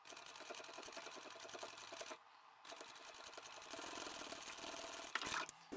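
A sewing machine triple stitches across the bulky layers of a large trapezoid-shaped utility bag near a D-ring, a steady fast mechanical whir with one short pause before it runs on, ending in a couple of clicks.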